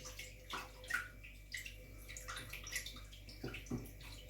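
Room temperature water pours for pizza dough, a steady close trickle and gurgle with occasional splashes over a low constant hum, with no talk.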